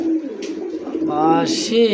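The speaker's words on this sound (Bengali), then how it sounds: "সেই একটু দেখেন কবুতরের যে ডাক" A large desi Bombay pigeon coos close by in low, throaty rolling calls that swell toward the end, loud and clear against a quiet background.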